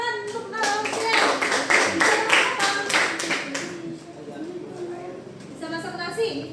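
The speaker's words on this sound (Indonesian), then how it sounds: "Kita tepuk tangan untuk Alfian." Group clapping for a boy named Alfian in a classroom-style gathering, a burst of many hands lasting a few seconds under ongoing children's and adult voices, then fading as talk resumes.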